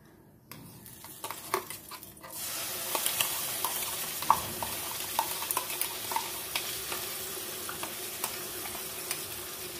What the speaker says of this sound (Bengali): তো বেগুনগুলোকে ভেজে নিয়েছি, এবার ওই তেলেই আমি মশলাগুলো দিয়ে দেবো একে একে সব